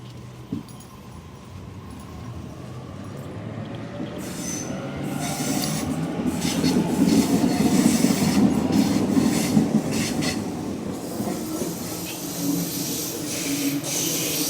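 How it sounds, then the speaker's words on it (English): A train rolls through Wollstonecraft station in Sydney with wheels scraping and squealing on the rails, a steady metallic grinding that swells in the middle and continues with rumbling clatter. "Trains always scrape through Wollstonecraft."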